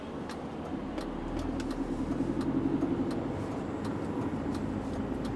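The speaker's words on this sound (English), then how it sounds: "you can hear these step changes from the sports setting on the gearbox" A 2007-era Audi A4 Cabriolet B7 with a 2.0 TDI diesel and Multitronic gearbox in sport mode pulls along a road, its steady engine drone rising and easing through smooth stepped changes, with faint ticking clicks over the cabin noise.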